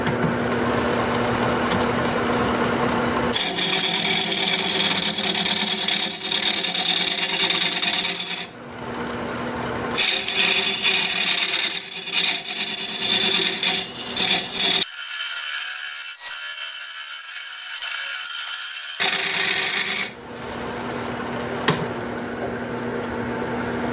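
A carbide tool cuts a gnarly wood burl bowl spinning on a lathe, giving loud continuous rasping and scraping in long passes broken by short pauses, with a steady motor whine underneath.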